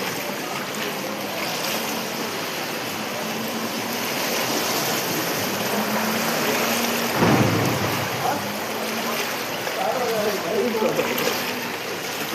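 Heavy rain pours down on a flooded city street at Gol Park on a stormy night, a dense, loud roar with one sharper thunder-like burst midway and people talking underneath.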